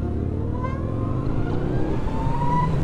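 Car accelerating with a loud, close engine rumble whose pitch climbs steadily as it gains speed, heard from inside over a constant road drone.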